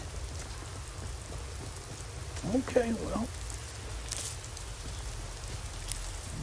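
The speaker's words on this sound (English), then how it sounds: "now it's raining, just what I need" Rain falls steadily in a Skyrim game scene, a constant hiss of drops on surfaces with a faint distant rumble, while a voice briefly speaks partway through.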